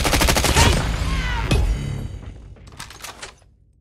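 Rapid bursts of gunfire from the mobile shooter game Call of Duty Mobile in a Control match, loud and dense at first, then thinning into a few scattered shots that fade toward the end.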